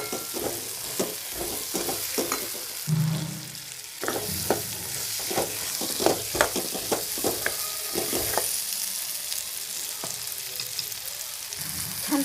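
Green peas tossed with red chilli powder and spices sizzle and crackle in a pan, with repeated scraping stir strokes and a steady frying hiss close up throughout.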